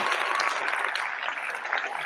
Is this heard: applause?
yes